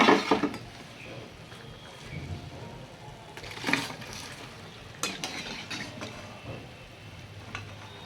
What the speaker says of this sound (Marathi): मी अगदी बारीक गॅसवर तळते यांना आता आपण यांना काढून घेऊया